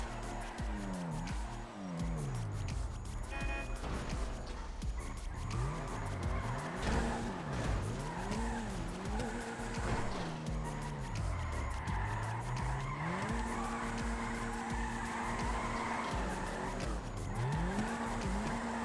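A car drifting in the FiveM video game sends out continuous tire squeal and skidding over a droning engine whose pitch sweeps up and down repeatedly, loud and sustained throughout.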